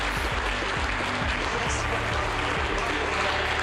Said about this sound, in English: amidst applause here in the Mission Control Center